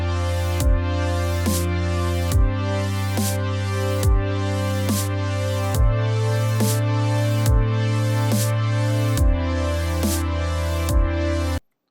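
Several Serum synthesizer patches layered into one sustained chord, repeating in evenly spaced swelling hits with a bright upper texture and a strong low bass note, loud and up close with no voices.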